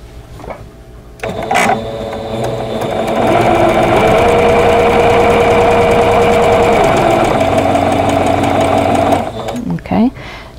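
A sewing machine runs in a fast, steady whir as it stitches quilt block pieces for a vintage Jackson Star block along a strip of tape, starting and stopping sharply with clicks around it.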